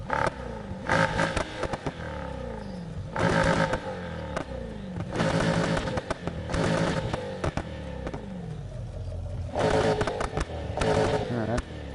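A modified car exhaust in a PS4 racing game rasps through repeated rev bursts and shifts, rising and falling in loud pulses with crackles between, under faint game background.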